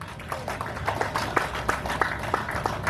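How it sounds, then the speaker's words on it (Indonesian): A crowd at a Pemilu 2024 peaceful campaign declaration event applauds, its clapping falling into a loose rhythmic beat of quick, evenly spaced claps, moderately loud and continuous. "Kita tepuk tangan untuk itu"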